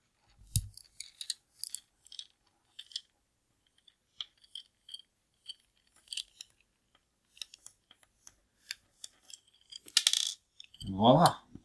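Phillips screwdriver turning a small screw out of the back of a vintage GI Joe action figure, sparse light metallic ticks and clicks close up, then a brief rattle near the end.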